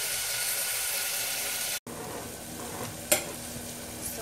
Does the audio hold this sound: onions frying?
yes